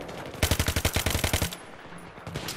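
An MG36 machine gun in Battlefield 3 fires a rapid, loud burst of about a dozen evenly spaced shots, followed by quieter scattered gunfire and game noise.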